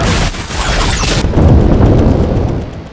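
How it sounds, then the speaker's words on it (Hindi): Bomb blasts in Lebanon roar as a loud, sustained rumbling boom, a heavy explosion tail rolling on with debris-like noise and a sharp cut partway through. "इजराइल के बम से लेबनान में लगातार धमाके हो रहे हैं"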